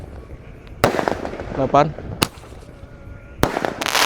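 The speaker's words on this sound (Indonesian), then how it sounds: "menyalakan banyak sekali mercon petasan" Firecrackers and fireworks set off at night, including ground spinners, Roman candles and similar Indonesian mercon: sharp loud bangs at irregular intervals with a crackling burst between them, while a voice counts aloud.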